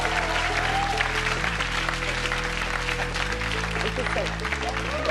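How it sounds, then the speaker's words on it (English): A comedy club audience applauds steadily for Sindu Vee at an award presentation, dense continuous clapping filling the room, with a host's voice heard briefly over it. "Big round of applause, guys."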